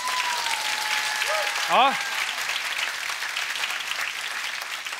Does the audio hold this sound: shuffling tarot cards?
no